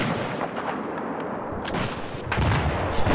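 Battlefield 4 game gunfire crackles in rapid bursts of overlapping shots and booms over a dense, noisy battle backdrop, steady and moderately loud for a few seconds.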